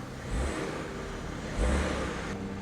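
A BMW 540i engine idles in reverse gear with worn engine mounts, giving a steady close rumble and two brief surges in low-end throb.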